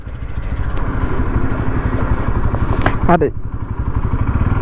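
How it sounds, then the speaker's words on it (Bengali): Bajaj Pulsar NS 200 motorcycle being ridden, its engine a steady, loud mid-range drone throughout with a brief rising rev near the end, while a voice talks over it. "ফার্স্ট টাইম ভাই NS 200 চালাচ্ছি"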